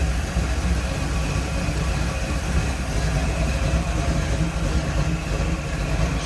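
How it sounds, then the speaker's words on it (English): Smooth-running 350 V8 in a 1948 Chevrolet Stylemaster two-door street rod with Edelbrock intake, a steady idle with an even low rumble and broad hiss, close and continuous, without talk. "Smooth running 350, good sounding engine."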